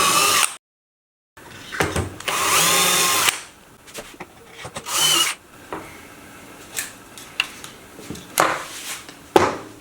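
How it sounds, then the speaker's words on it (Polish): A power drill with a 4 mm bit marks screw holes through a drawn template on a fan housing for a DIY model-painting extractor, in short whirring bursts separated by pauses, clicks and handling knocks. "Przyłożę sobie wentylator do odrysowanego szablonu i wiertłem czwórką zaznaczę, w których miejscach będą"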